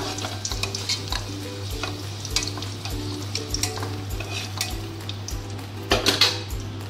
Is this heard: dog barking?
no